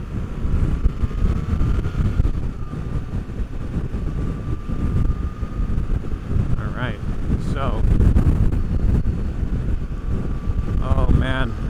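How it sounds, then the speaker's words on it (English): Steady roaring wind buffets the microphone while riding a BMW 1300GS Trophy Edition motorcycle, a dense low rumble with occasional swells, while faint voices and passing sounds come through underneath. "Very windy today."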